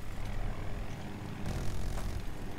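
Attack helicopter in the Battlefield 2042 game, a steady close rotor and engine roar with heavy low-end drone that swells slightly midway, no talk over it.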